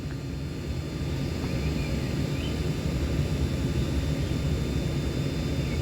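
A double Northern Class 331 electric multiple unit at Deansgate station in Manchester, a steady, continuous low rumble and hum with faint high whine, loud and sustained throughout with no talk.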